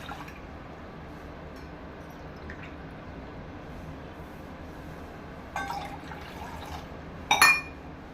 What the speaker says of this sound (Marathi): इथे मी एक भांडं घेतलं आहे त्यामध्ये दोन पेले पाणी घालूया